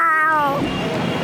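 A voice imitates a cat's meow, a single drawn-out, rising-then-falling mew lasting about half a second, close and clear, followed by a brief murmur of background noise.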